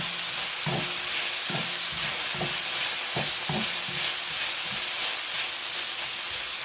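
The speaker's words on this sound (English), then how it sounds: "And just stir fry to mix the ground beef very well with the okra." Ground beef stir-fried with okra in a pan just after the heat is turned off, a continuous loud sizzle and hiss with regular spatula scrapes and knocks, no voices.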